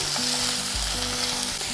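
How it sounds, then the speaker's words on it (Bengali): Ginger paste stirred into onions already fried reddish-brown in a pan gives a steady, close, hissing sizzle throughout, with a faint low musical tone underneath. "এরপর এখানে দিয়ে দেব 1 টেবিল চামচ আদা বাটা। একটু নাড়াচাড়া করে নিচ্ছি।"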